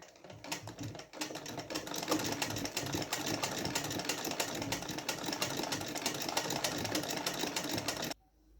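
An ordinary household sewing machine stitches embroidery at slow speed, a continuous rapid mechanical chatter close by that stops abruptly near the end.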